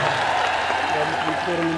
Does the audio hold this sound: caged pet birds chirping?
no